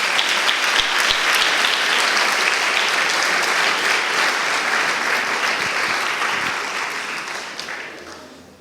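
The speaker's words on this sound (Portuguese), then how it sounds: "Você aplauda ele, irmão." A crowd gives sustained, dense applause for a graduate at a church graduation ceremony, steady and loud for several seconds before gradually tapering off.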